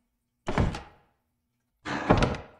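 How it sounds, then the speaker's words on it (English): Two heavy wooden thunks from a mansion door in the video game Lethal Company, each a short, loud knock with a brief decay, separated by about a second of silence. "The doors on the mansion tile now have a unique sound."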